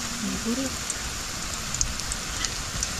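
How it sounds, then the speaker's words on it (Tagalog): Steady rain falls in a rural province setting in the Philippines, a continuous hiss in the background while people speak quietly. "Ayan yung ulan, oh."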